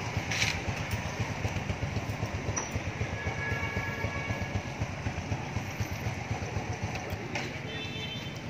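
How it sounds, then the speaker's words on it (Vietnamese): Two Honda motorcycles idle together in a Saigon street-side shop, producing a soft, regular low thumping that stays steady throughout, with faint background noise. "Thôi anh em nghe tiếng máy đi"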